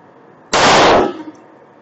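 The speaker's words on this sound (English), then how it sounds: "We're going to go ahead and do our chrono, 3 shots" A single loud gunshot from a SIG P226 pistol firing Hornady Critical Duty 357 SIG rounds, a sharp close blast with a short echoing tail against a quiet outdoor background.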